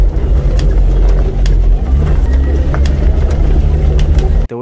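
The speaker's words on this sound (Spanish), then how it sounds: "Si manejas y pasas por tope y tu auto suena así" A car driven over a speed bump with worn suspension: steady loud road and engine rumble with repeated faint knocking thuds scattered throughout, ending abruptly.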